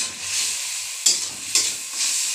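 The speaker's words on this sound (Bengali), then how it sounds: "পেঁয়াজ রসুন বাটা দিচ্ছি এখানে" Onion and garlic paste sizzling steadily in a hot pan while being stirred, with a constant close frying hiss and a few brief spatula scrapes.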